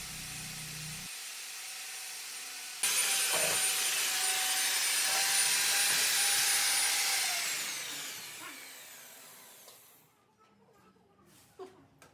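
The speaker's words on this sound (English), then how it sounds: "So the core cutting is done now." Core cutting drill boring a hole through a wall for a split air conditioner: a loud high-pitched motor whine and grinding drone that spins up, holds, then winds down and stops, followed by quieter knocks and clatter.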